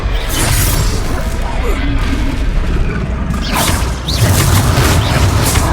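Confringo blasting spells cast in Hogwarts Legacy on hard mode: loud, dense booms and crackling explosive bursts that follow one another, with clattering impacts and a brief whoosh near the end.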